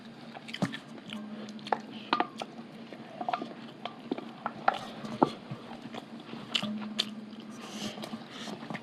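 Someone chews a final bite of spicy mutton fat chana dal, with soft wet chewing, biting and squishy sounds up close, plus occasional light clinks of dishes and no clear talking.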